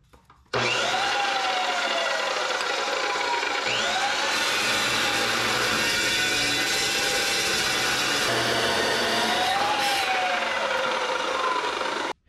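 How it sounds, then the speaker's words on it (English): A cold saw cuts through 2.5 to 3 inch aluminum bar stock in a garage, with a steady, loud, sustained grinding whine running for about eleven seconds. The pitch drifts as the blade bites, then it cuts off abruptly. "As you can see, the cold saw makes quick work of that."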